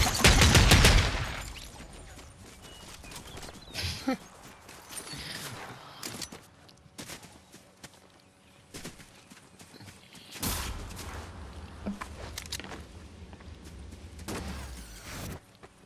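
Gunfire from a shotgun and other weapons in a Fortnite battle royale squad match: a loud, dense burst of shots at the start, scattered sharper reports, then another cluster of rapid shots near the end.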